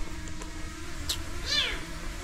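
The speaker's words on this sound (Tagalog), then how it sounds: "Yung pusa, oh." A cat meows a couple of times, short rising calls standing out over steady outdoor background noise.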